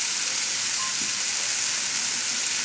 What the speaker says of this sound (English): So on a high flame, just saute